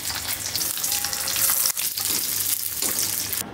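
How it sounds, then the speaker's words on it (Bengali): Fried fish sizzles steadily as it is reheated in a pan, a loud, continuous crackle and hiss that stays close and constant throughout. "মাছটা গরম করে নিই"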